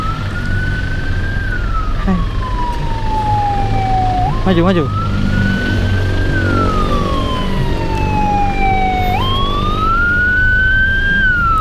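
A wailing siren sweeps up and down loudly and continuously through a heavily congested traffic jam, over the rumble of engines, while voices call out briefly.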